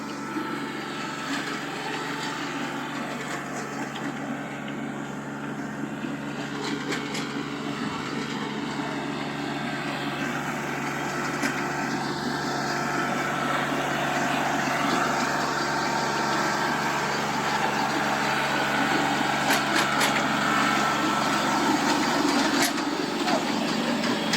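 Compact tractor with a rear tiller working thatchy ground, a steady mid-distance engine drone with rattling and churning that builds slightly toward the end, with people talking over it.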